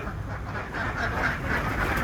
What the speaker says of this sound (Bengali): মাশাল্লাহ কয়েক হাজার হাঁস হবে দেখেন কয়েক হাজার হাঁস